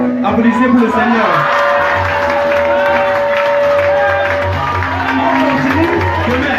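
Congregation applauding and cheering at a church service, a steady crowd of clapping with voices and a sustained tone beneath, loud and continuous throughout.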